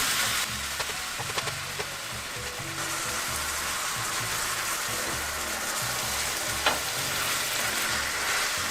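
Food frying steadily in a generous amount of oil in a pan, a continuous close sizzle with soft scraping and stirring clicks throughout, no talking.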